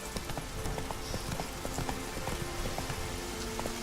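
Roach the horse gallops in The Witcher 3: Wild Hunt, with fast, steady rhythmic hoofbeats close by, continuous throughout over a faint ambient bed and no talking.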